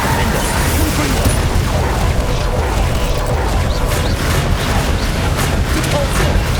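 Spell explosions from Confringo casts bursting during a Hogwarts Legacy duel, with dense booming and crashing combat noise running steadily and loudly throughout, with no quiet gaps.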